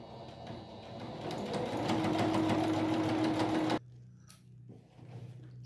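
A sewing machine stitches along the edge of a fabric strip for a patchwork strip rug, a loud, steady mechanical whir with rapid needle ticking that stops abruptly, followed by a few faint handling sounds.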